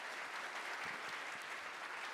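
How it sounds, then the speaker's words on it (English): Sustained audience applause for a panel of speakers at an international finance and investment summit, a dense, even wash of clapping from a crowd heard throughout without speech. "a huge round of applause for our wise panelists"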